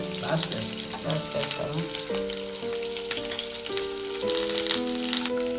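Meal maker chunks frying in a pan for meal maker manchurian, giving a continuous bright sizzle and crackle throughout, with a steady musical tone running underneath; no clear talk.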